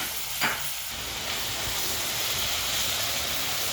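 Garlic frying with onions in a pan, a steady hissing sizzle close by with a brief stir or scrape near the start, then an even, unbroken fry with no voices.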